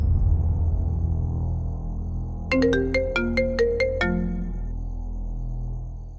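A phone ringtone plays during an outgoing call, a short melodic run of about eight bright chiming tones over roughly a second and a half, heard clearly against a steady low room hum with no talking.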